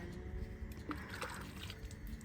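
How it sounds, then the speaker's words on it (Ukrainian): Water poured from a container into a planting hole in a garden rockery, a soft, faint trickle and splash with a few small drips, steady and close, no speech. "Зараз прольємо лунку дуже гарно водичкою."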